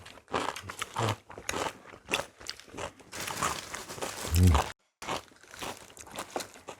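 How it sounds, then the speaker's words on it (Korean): Braised pork back ribs are eaten at a Korean meal, with close chewing, crunching and crinkling sounds mixed with brief murmured speech and a sudden short silence. "그냥 갈비를 한번 먹어볼까?"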